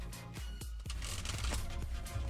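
Tarot cards being shuffled by hand, close and soft, with a quick run of riffling snaps and flutters that quiets briefly, then resumes as a brisker continuous rustle.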